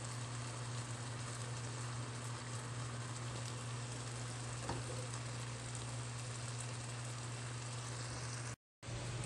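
Shrimp frying in oyster sauce in a pan sizzle in a steady, close, continuous hiss with a low hum underneath, no talking, and a brief dropout near the end.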